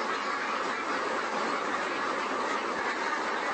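Ducks inside a broiler shed, a dense, continuous wash of quacking and flock noise filling the space at steady loudness.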